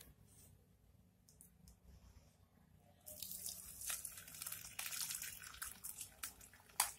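Curdled milk for homemade paneer poured through a muslin cloth laid over a strainer, a steady splashing, trickling pour that starts after a quiet few seconds and continues close and fairly loud to the end.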